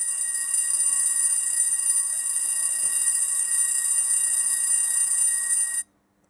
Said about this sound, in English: Like a sort of fire alarm bell there